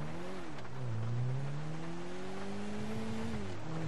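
A car in Grand Theft Auto 5 pulls away with a steady engine drone. Its pitch dips and then climbs gradually over a few seconds and stays moderately loud throughout, with no voices.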